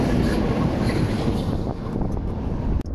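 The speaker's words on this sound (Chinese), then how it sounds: "今天又是逆风啊" Strong headwind while cycling in Tibet roars as continuous buffeting wind noise across the microphone, loud and steady for the whole stretch, with no voices.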